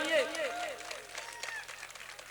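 Audience applause at a mushaira, an Urdu poetry gathering: a voice opens, then a steady patter of clapping from the crowd carries on beneath and after it.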